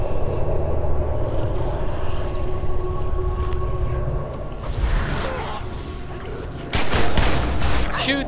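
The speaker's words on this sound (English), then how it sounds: "Shoot the zombies." Rapid bursts of gunfire shooting zombies in the video game Secret World, sustained rattling shots with whooshes and a heavier cluster of blasts near the end, loud and close.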